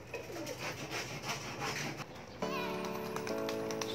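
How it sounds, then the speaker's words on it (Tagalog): A flock of pigeons coos softly at a loft, low murmuring calls under faint background voices and children, with a steady tonal hum joining partway through. "11 birds sila."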